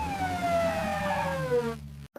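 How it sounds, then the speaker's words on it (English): Ambulance siren in a children's vehicle phonics song, a loud steady descending wail sounding alone for about two seconds before cutting off, followed by a brief short note. "A is for ambulance."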